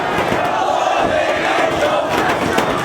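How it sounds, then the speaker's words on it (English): A wrestling arena crowd roars and cheers at a tribute show, a loud, dense mass of shouting voices sustained throughout with scattered yells rising above. "And listen to the crowd."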